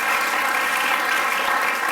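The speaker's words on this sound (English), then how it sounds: "I think we need to give him a few round of applause for that." Steady, dense audience applause fills a hall after a conversation event with NBA player Jeremy Lin, holding at an even loud level throughout with no talk over it.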